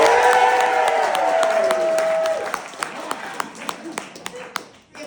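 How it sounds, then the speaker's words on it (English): An audience at a live show breaks into clapping and cheering, a loud burst that fades into scattered individual claps, with talk mixed in. "Okay, do it by applause, because I can't see you."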